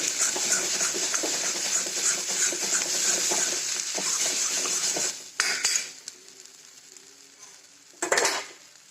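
Gram flour roasting and being stirred in an iron pan for a spicy potato curry: steady dry sizzle with scraping and clinking of a spoon against the pan, broken by two louder bursts of clatter near the end.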